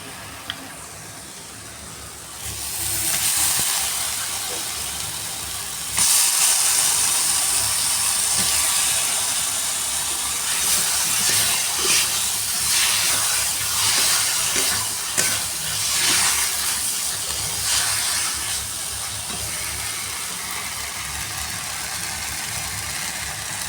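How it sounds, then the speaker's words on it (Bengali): Chicken pieces go into a pan of spice paste already fried in oil and keep cooking with a loud, steady sizzle and stirring scrapes. The sound starts quieter, then rises sharply and holds strong through most of the stretch. "যে মশলাটা কষানো হয়ে গিয়েছে, এবার আমি মাংসটা দিয়ে দেবো।"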